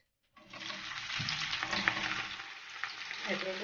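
Onions hit hot oil in a pan for a Bengali loitta dry fish curry, bursting into a sudden loud sizzle that holds as a steady, close frying hiss with small crackles.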